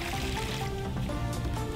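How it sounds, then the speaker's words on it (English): Liquid plaster pours into a mold for clay work with a continuous wet gurgling and splashing, close and fairly soft. "So pouring in the plaster"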